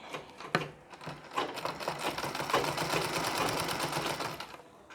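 A sewing machine stitches along a folded edge of Nauvari saree fabric, its fast, even needle chatter running nearly continuously at close range for several seconds before easing off.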